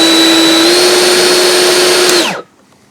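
A Stihl BGA 100 battery leaf blower runs at full turbo power with a loud, steady high whine and broadband airflow rush, then spins down and cuts off near the end, leaving near silence.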